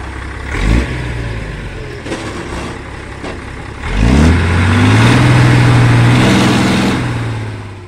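Excavator diesel engine working on a road that is sinking: a close, loud mechanical rumble with a revving surge around the midpoint that holds a strong droning tone for several seconds before easing off.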